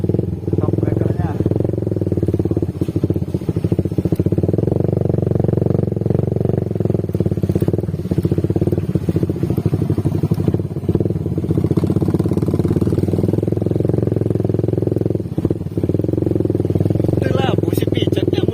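A short motorcycle crosses a speed bump on a rural road, its engine clattering and chugging steadily and loud throughout, with people talking over it.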